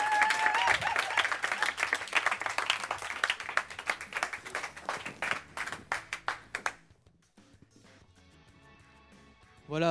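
An audience at a startup demo day pitch event claps. Dense applause starts strong and thins out into scattered individual claps, then fades almost to silence before a brief sound at the end.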